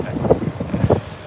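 Gusty wind buffets the microphone on a cold, wet London street, low rumbling bursts that swell and fade over about a second, loud and close.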